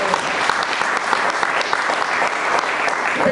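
A church congregation applauds during a French-language sermon, with dense, continuous clapping from many hands that stays loud and even throughout.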